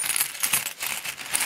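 A bag of about 300 mixed foreign coins clinks and rattles close by, the light metallic jingle running steadily with small surges through the whole stretch and no talk over it.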